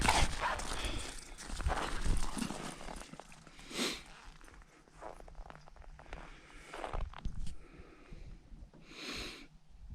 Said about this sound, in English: You a good dog.